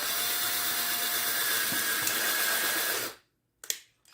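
A drill backs out of a hole bored in a 3D-printed Super Mario statue to attach its head, giving a steady, loud whirring that runs for about three seconds, cuts off abruptly, then a brief clack follows.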